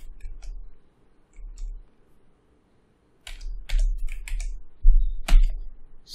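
C++ code is typed on a computer keyboard in short bursts of crisp, close key clicks separated by pauses. A faint voice may murmur briefly.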